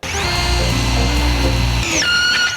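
A power drill bores through steel, its motor whining loud and steady with a high-pitched grinding tone that shifts and drops near the end as the bit breaks through.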